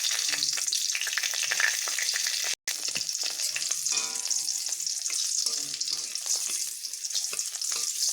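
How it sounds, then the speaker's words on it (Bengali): Green chilli and panch phoron crackle and sizzle steadily in hot oil in a home kitchen, broken by one very brief silent gap, with no talking. "এবার আমি একটা কাঁচা লঙ্কা ও 5 ফোড়ন দিয়ে নেব।"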